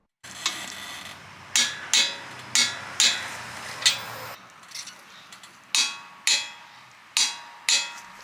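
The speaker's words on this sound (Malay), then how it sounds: "So untuk 2 bolt ni, saya akan torque 120 foot-pound." Sharp metallic clicks from a torque wrench reaching 120 foot-pounds on camber bolts in a car's steering and suspension setup, coming in quick separate bursts with short pauses between them, loud and close.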